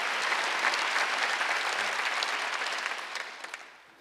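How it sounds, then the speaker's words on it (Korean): A church congregation at a Sunday worship service gives a burst of dense, even applause that holds strong, then fades toward the end. No voices are heard over the clapping. "박수 한번 주세요."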